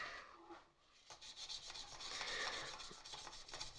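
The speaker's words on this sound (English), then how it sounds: "always make sure to do your horizontal sanding against the, with the grain" Sandpaper rasps against a turned wooden blank spinning on a lathe, a steady hissing rub that swells and fades in soft strokes, close and alone with no talk.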